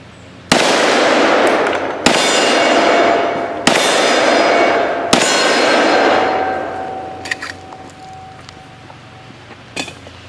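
Four loud .357 Magnum shots from a 1911 pistol crack out at steady intervals, each followed by a ringing clang off steel targets at an outdoor range, with a few fainter metallic pings trailing off near the end.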